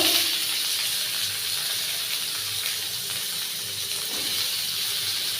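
Continuous hissing sizzle of potatoes frying in a pan, steady and fairly loud throughout with no talking.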